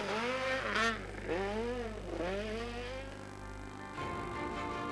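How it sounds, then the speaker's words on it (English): Volkswagen Sasol Racing Polo S2000 rally cars starting a stage, engines revving hard through rising and falling gear pulls with a steady low drone, fairly close and without talk. "it seemed like a very cautious start by the two Volkswagen Sasol Racing Polos of Hans Weiss and Bjorn de Gant"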